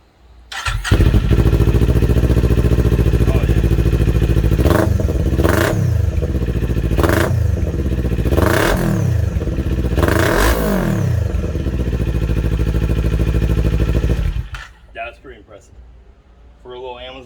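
Kawasaki Z400 motorcycle running an inexpensive Amazon aftermarket exhaust with the baffle removed, idling loud and close then blipped through four sharp rising revs before settling and cutting off near the end.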